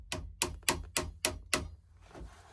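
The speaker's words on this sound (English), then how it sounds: "Hammer, hammer." A hammer taps on a Pedersoli 2nd Model Brown Bess musket during woodworking, six sharp evenly spaced strikes in quick succession, close and crisp, then quiet.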